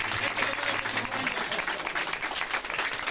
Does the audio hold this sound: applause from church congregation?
yes